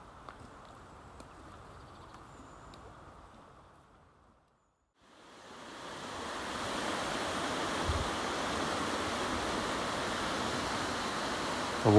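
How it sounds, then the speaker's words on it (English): Rushing river water whips around a meandering bend in a wooded valley at the Strid, a steady broadband roar that swells after a brief lull and stays loud and close. "The water's starting to pick up pace again as it whips around a meandering corner."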